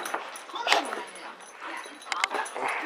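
A dog close by gives short yips and whimpering bow-wows in scattered bursts, mixed with rustling and brief jangles, while people's voices are heard in the background.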